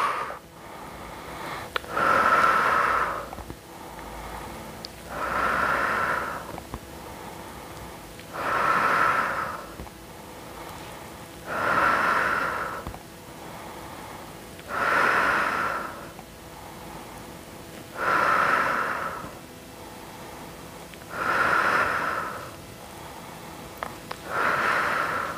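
Heavy, rhythmic breathing from someone doing squats, about eight evenly paced inhale-exhale cycles a few seconds apart, close and clear with no talking.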